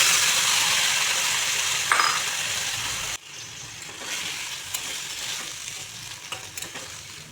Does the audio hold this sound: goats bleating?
no